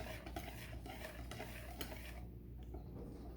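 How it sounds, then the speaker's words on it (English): Pancake batter being stirred in a bowl, a steady scraping swirl with light clinks of a utensil against the sides, close and continuous without talk. "I'm going to keep stirring."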